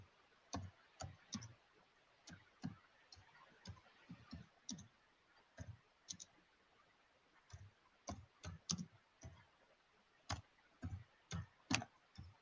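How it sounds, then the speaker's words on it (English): Keyboard typing gives quiet, irregular clicks in short bursts with brief pauses, close but faint, with no talking. "I'm actually typing something."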